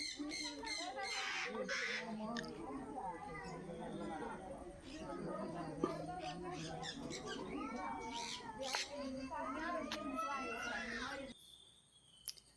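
Shrill cockatiel squawks and chirps repeat over a noisy background of people talking, ending in near quiet.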